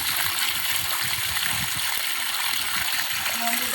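Water gushing steadily from a newly installed submersible pump, a dense continuous rushing splash heard close up, with voices talking over it.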